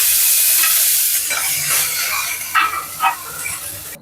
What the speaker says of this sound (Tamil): இப்போ சின்ன வெங்காயம் கொஞ்சம் போட்டுக்கலாம்.